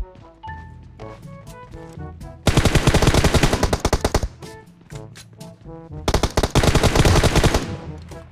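Bursts of automatic gunfire in PUBG Mobile squad gameplay, with rapid loud shot trains and sparser single shots between them, prominent and close.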